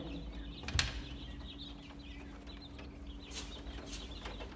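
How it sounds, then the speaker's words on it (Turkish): Twenty-four-day-old quails in a new cage give faint, scattered high chirps and a brief flutter or rustle near the start, quiet and close, with low background hum. "Bıldırcınlarımız da 24 günlük oldu arkadaşlar bugün itibariyle."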